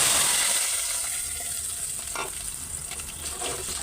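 Mashed potato and spices frying in oil over browned onions give off a steady, hissing sizzle close by. The sizzle is loudest at first, then eases, and light stirring scrapes break through.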